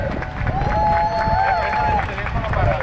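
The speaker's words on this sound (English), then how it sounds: "how about a round of applause for Captain Rodney and our crew keeping us safe out there on the lake" Passengers aboard a tour boat on a lake in Chicago give a brief round of applause for the captain and crew, scattered clapping mixed with crowd murmur and a sustained tonal sound over it.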